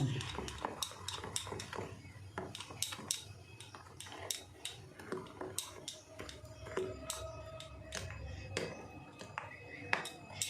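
A spoon scrapes and clinks against a bowl while semolina batter is stirred with baking soda, a steady run of small metallic taps and scrapes at close range.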